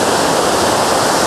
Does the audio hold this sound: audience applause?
no